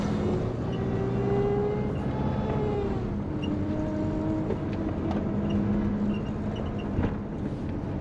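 A twin turbo Subaru Forester's engine idles steadily while warming up, a continuous close rumble with faint whining tones drifting over it and no voices.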